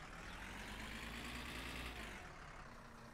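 Van engine idling in the game My Summer Car, a steady low rumbling hum that holds evenly, then eases slightly toward the end.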